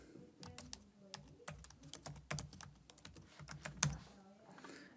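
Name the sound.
typing a domain name on a computer keyboard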